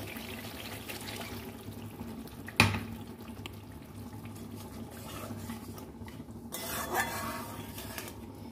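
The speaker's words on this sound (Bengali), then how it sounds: "একটু মশলা ধোয়া জলটা দেবো।" Water poured into a hot pan of paneer with ground spices brings a sharp clank and splash, then a low bubbling sizzle with a few utensil knocks and a rising hiss near the end.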